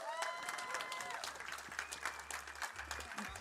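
An audience at a summit event applauding a team, a continuous wash of crowd clapping with voices mixed in, faint and distant in the room.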